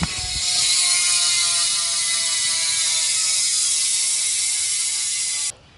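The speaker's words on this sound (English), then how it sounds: "Race Face Vault J-bend hub, sickest hub. I'll insert a clip of the sound." Race Face Vault J-bend rear bicycle hub freewheeling, a loud rapid buzzing ratchet click heard up close and alone, steady for about five seconds before stopping suddenly.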